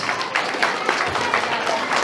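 Wedding guests clap in a steady, moderately loud round of applause, with voices mixed into the clapping throughout.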